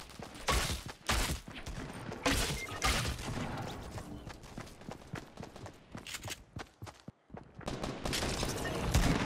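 Rapid gunfire bursts from the Fortnite Battle Royale video game, crackling repeatedly through the whole stretch with short gaps, dense and fairly loud against busy game noise.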